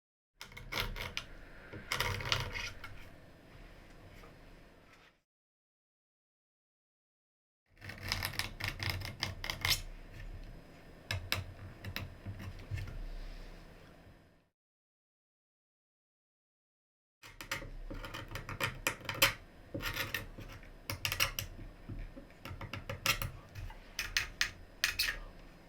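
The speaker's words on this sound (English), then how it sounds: "The finish is scraped and chipped away with the sharp blade and scraper, smoothing with sandpaper and adding dings with a spanner." Scraping, chipping and tapping on the alder body finish of a Telecaster-style guitar with a sharp blade, scraper and spanner, heard as three bursts of dense rasping and clinking separated by silent gaps.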